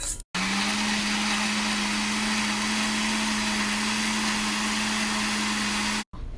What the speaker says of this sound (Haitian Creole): Sans de l'eau pour nous blender.